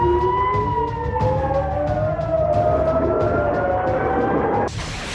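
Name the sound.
air raid sirens sounding in Israeli settlements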